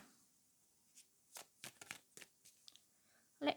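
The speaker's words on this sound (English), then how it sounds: "Let's shuffle some more cards for you guys." Quick bursts of tarot cards being shuffled, several crisp riffling rustles in a row with short pauses between, close and fairly quiet.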